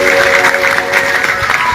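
Audience at a religious satsang breaks into sustained applause, a dense, steady clapping that holds at an even loudness throughout, with a faint tonal hum from the hall's sound system beneath it.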